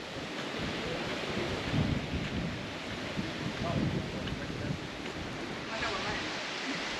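Steady wash of Indian Ocean surf rolling onto a beach in Mozambique, with broad roaring swells and rough wind buffeting the microphone.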